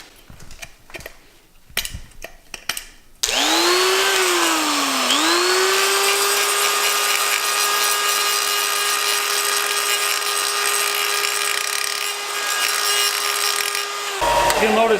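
A Dremel rotary tool whines loudly, cutting a motorcycle exhaust pipe for a custom Honda Shadow, its pitch dipping under load then holding a steady high drone; a few seconds of handling noise come first.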